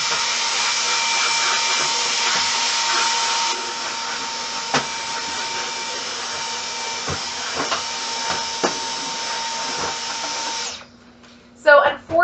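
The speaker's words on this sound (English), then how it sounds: "So again, I'm going to take my vacuum, give it a quick little vacuum," A vacuum cleaner run inside a kitchen drawer whines steadily and loudly for about ten seconds, with small knocks as the nozzle bumps the drawer, then cuts off, followed by a few brief clatters.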